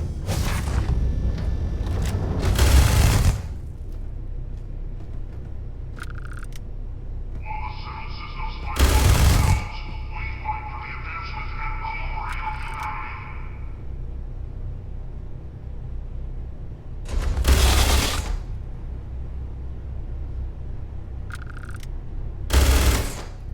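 Weapon fire in Starfield comes in loud, crackling bursts spread across the stretch, each a few seconds long, between steady game ambience and electronic tones, with people talking throughout.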